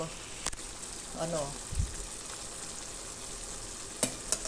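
Pakbet with squash simmering in a cooking pot, a steady bubbling sizzle with occasional clinks of a utensil, close up, while a person talks intermittently over it.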